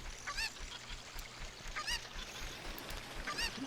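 A chicken in The Legend of Zelda: Ocarina of Time squawks in short, repeated honking cries, three or four bursts spaced about a second apart over a steady low background hum.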